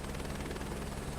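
Chinook helicopter in Microsoft Flight Simulator 2024 runs as a steady, dense rotor and engine drone with a faint rhythmic beat, filling the whole stretch at constant level and carrying no talk.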